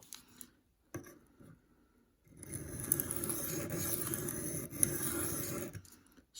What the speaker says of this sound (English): now let's get sharpening